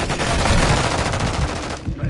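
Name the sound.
gunfire in video game Modern Warfare 2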